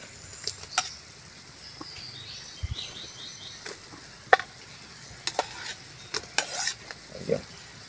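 Egg and kangkong fry in a pan with a soft, steady sizzle, broken by occasional sharp clicks and scrapes of a utensil stirring, close but fairly quiet.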